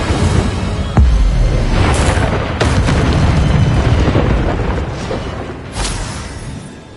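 Fire spell blasts from Hogwarts Legacy on PS5: a sudden deep boom followed by rumbling bursts, then a second whooshing blast and a fainter flare, loud and close with no talking.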